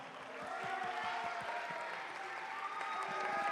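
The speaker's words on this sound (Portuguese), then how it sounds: "Aê, cadê as palmas, pessoal?" Audience at a school talk show applauding the 9th-grade class, steady clapping from a crowd throughout, fairly distant and moderate in level, with a murmur of voices mixed in.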